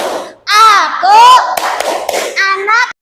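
Schoolchildren in a fifth-grade class clap a rhythmic class chant together, sharp clustered hand claps under loud sung and chanted children's voices.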